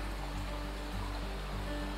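A creek in the Great Smoky Mountains flows with a steady, broadband rush of water, constant and fairly quiet, with no voices.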